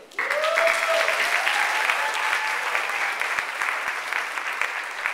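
An audience bursts into sustained applause after a closing speech at an event, a dense, steady wash of clapping from a crowd that holds for several seconds without fading.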